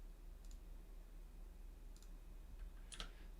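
Computer mouse clicks at a desk while modelling in Autodesk Inventor: three small, quiet, sharp clicks spaced about a second apart over a low steady hum, with no talking.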